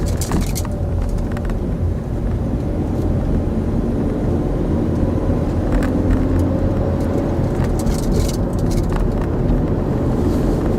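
A car pulls away and drives on during a driving lesson, its engine a steady, close rumble that stays constant throughout with no voices.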